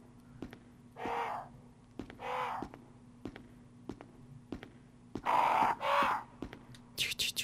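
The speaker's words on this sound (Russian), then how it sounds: "Вороны." Crows caw in the Resident Evil video game, several harsh calls in pairs over a quiet ambient backdrop with soft footsteps and taps.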